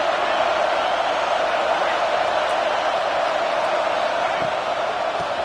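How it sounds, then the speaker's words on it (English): A home crowd at a football game roaring loudly, a steady, dense wall of cheering that holds at full strength without letup. "how nice is it to have the home crowd going absolutely bananas?"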